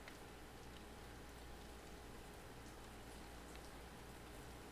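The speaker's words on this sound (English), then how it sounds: "Get a lot of rain in this game." Rain falling in the fishing game Ultimate Fishing Simulator 2: a faint, steady hiss that holds evenly throughout with no voices.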